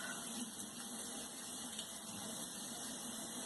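Hot water runs steadily from a sink tap, a continuous broadband gush at moderate, even level with no pauses and no talking.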